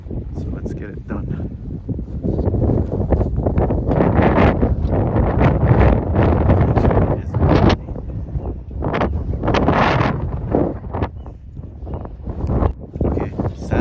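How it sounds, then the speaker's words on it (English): Wind gusting across an RC flying field, roaring against the microphone in loud, sustained rushes that rise and fall, with a voice talking over it. "windy day at the field. It seems like every day seems to be windy these days."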